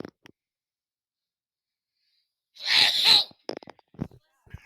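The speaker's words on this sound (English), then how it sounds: "Big sneeze." A single loud sneeze bursts out after a pause, with a few faint breathy sounds and small noises trailing after it.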